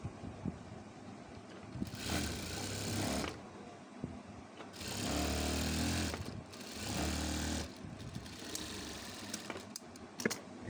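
A sewing machine stitches rubber thread into a burqa sleeve using a rubber-thread bobbin. It runs in three short, fairly quiet whirring bursts separated by pauses, with no voices.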